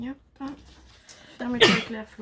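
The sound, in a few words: sneeze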